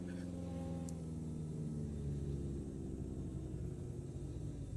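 Racing car engine in the MSR Superstreet video game, Honda versus Toyota, a steady close droning rumble with layered harmonic tones held at an even loudness throughout, no voices.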